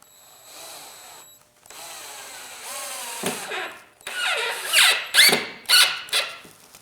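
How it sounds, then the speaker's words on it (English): Power drill driving screws into the fence of a table saw crosscut sled, several short whirring bursts that rise and stop, fairly close, after quieter handling noise, with no talk. "Once I've drilled the holes, it's just a matter of driving the screws."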